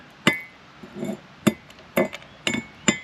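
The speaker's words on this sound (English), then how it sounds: "when you crack this with a hammer," Sharp, ringing metallic strikes of a hammer knocking slag off a fresh arc weld in a workshop: six distinct close taps spaced about half a second apart, with brief glassy clinks between.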